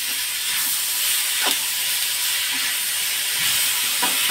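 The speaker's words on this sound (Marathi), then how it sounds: "तर आता यामध्ये हे 3 टोमॅटो चिरून घेतले आहेत ते टाकायचे" Chopped tomatoes tipped into a hot masala in a pan for matar paneer give a steady, loud hiss and sizzle throughout, with a few soft clinks of the pan or spoon and no talk.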